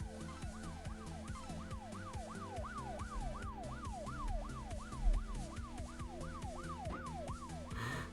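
A police car siren in the mobile game Neodori Forever wails in a fast, repeating up-and-down sweep, loud and continuous over engine and road noise.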